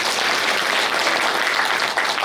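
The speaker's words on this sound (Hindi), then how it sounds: "माताएं, भाइयों के लिए ताली बजाओ जोर से," An audience applauds loudly and steadily at a spiritual class in Birgunj, Nepal, with a dense, continuous wash of many hands clapping together and no voices on top.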